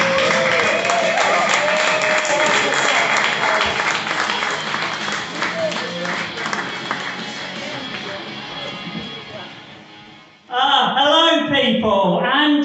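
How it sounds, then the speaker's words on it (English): Audience applause and crowd noise fill a comedy set in Manchester, steady and loud for about ten seconds before fading, then a single voice starts talking close to the mic. "We'll keep that applause going."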